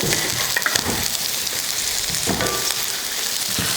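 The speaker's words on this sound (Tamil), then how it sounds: "எண்ணெய் ஊற்றி எண்ணெய் காஞ்சிருச்சு. அதில் வெங்காயம் சேர்த்துக்கலாம்." A large onion, sliced lengthwise, sautéing in hot oil: continuous sizzle with a few sharp spoon-stirring clicks and scrapes, close and fairly loud, no talking.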